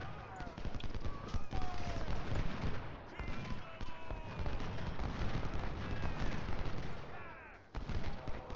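Civil War battle gunfire in Ultimate General Civil War at Gaines' Mill: dense, continuous crackle of musketry and cannon rolling on throughout, loud and busy, with a voice talking over it.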